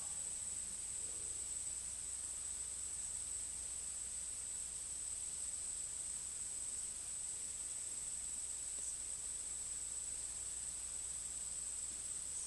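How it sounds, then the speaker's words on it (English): A steady, high insect drone, like crickets or cicadas, holds unbroken throughout, faint and distant over a soft hiss. "hum of insects"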